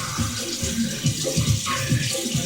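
Running water rinses freshly cut scallion leaves (green onion) in a kitchen, a steady broadband splash with bursts of rougher spattering as the leaves are moved under the stream, close and fairly loud with no talking.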